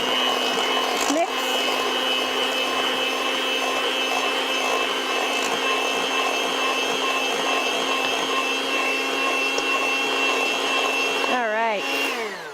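An electric mixer whirs steadily through strawberries, a loud, even motorized drone with a high whine that holds for about eleven seconds before slowing and cutting off at the end.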